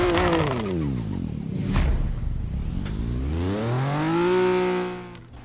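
A 2011 Bone Shaker hot rod in the racing game Forza Horizon 3 revs its engine hard, pitch dropping and climbing again in two long sweeping swells, loud and close with no talk.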